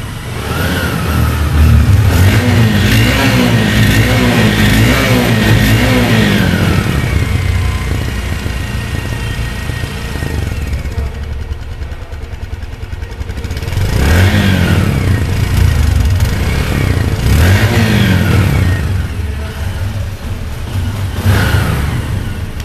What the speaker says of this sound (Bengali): গাড়িটির সাউন্ড কোয়ালিটি কিন্তু একদম showroom sound, showroom condition sound